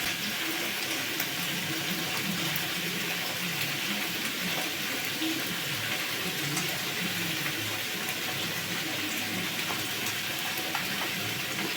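Fish roe fritters frying in hot oil give a dense, steady sizzle and crackle, close and continuous throughout, with no talking.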